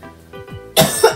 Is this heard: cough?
yes